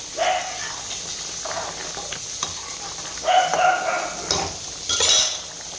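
Eggplant slices frying in a pan sizzle and hiss while a utensil stirs and scrapes, with a few bursts of louder spitting oil and metal clinks against the pan.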